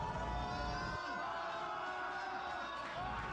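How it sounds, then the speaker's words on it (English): A pool hall crowd at an exhibition match with Efren Reyes reacts to a called trick shot on the 9 ball: a dense, steady roar of cheering and whooping voices that carries loudly throughout. "Got really close, the crowd was loving it, even got Efren to laugh"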